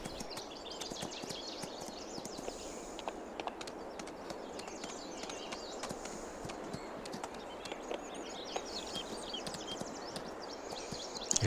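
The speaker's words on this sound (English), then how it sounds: "And the horses turn like a vehicle with bad steering." Horse hooves clip-clop in a quick, continuous rhythm inside Farming Simulator 22, faint and steady with light background ambience.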